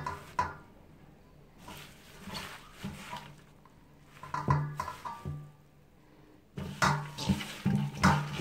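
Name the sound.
adding chopped vegetables to a cooking pot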